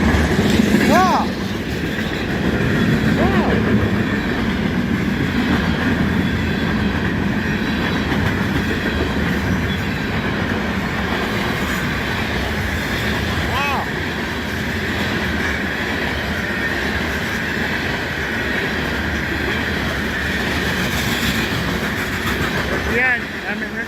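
A CN freight train rolls past in Michigan, its loud, steady rumble and rhythmic wheel clatter holding for the whole stretch, with faint squeals and brief voices over the noise.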